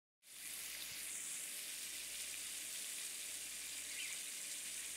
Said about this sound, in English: For lunch, I'm frying some chicken strips from our own homegrown chickens.